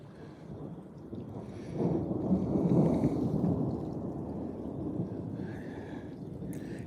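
Thunder rumbles low and distant through a thunderstorm beside water where someone is fishing, swelling and fading over steady rain noise.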